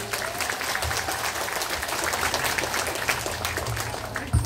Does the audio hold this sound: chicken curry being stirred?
no